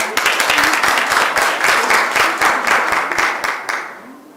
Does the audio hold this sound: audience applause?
yes